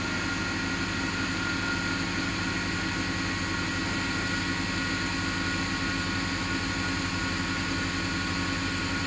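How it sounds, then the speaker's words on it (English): A BMW's pump runs with a steady, continuous mechanical hum and whir that holds an even level throughout, with no talking over it. "Right now the pump is running."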